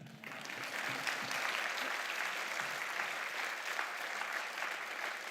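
Audience at an evening meditation gathering breaking into sustained applause, a dense wash of clapping from many hands that holds steady throughout.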